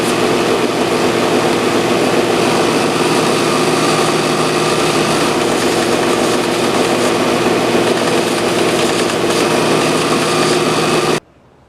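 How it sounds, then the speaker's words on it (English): A power sander fitted with 320 grit paper works small wooden dowels, giving a loud, steady, high whirring motor drone that holds for about eleven seconds and then cuts off abruptly. "I'm going to go ahead and sand these little dowels on this because it's easier for me because of my hands"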